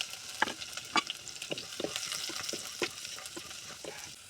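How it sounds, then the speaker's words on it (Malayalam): Curry leaves frying in hot oil in a pan for a spiced Kerala nethili (anchovy) thoran, giving a soft steady sizzle with scattered crackles and stirring scrapes throughout. "ഇനി നമുക്ക് ഇതിനകത്തേക്ക് കറിവേപ്പില ചേർക്കാം. നല്ലോണം പാകമാകട്ടെ."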